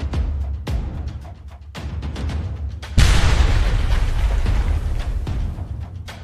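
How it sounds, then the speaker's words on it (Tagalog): Ukrainian artillery fire in a war zone booms repeatedly, several heavy low blasts in irregular succession, then a sustained loud rumbling roar of explosions and debris from about midway on. "Nagpaputok ang artilyeriya ng Ukranya"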